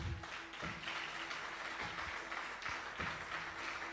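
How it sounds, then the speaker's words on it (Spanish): Steady applause from a church congregation fills the space, a dense wash of clapping with a faint sustained tone underneath and no talking. "Dale un fuerte aplauso al Señor."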